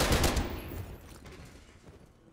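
Gunfire from a shotgun in the video game Call of Duty Cold War, a loud burst of blasts at the start that tails off into a fading, rumbling decay with no one talking.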